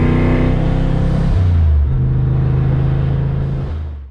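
Loud, close revving from a car engine with an ON3 turbo: a sustained roar whose pitch climbs, drops sharply and holds before fading at the end. No one talks.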